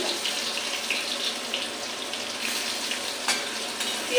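Chopped onion frying in hot oil over a lowered gas flame, giving a steady, even sizzle close by with a brief louder crackle near the end.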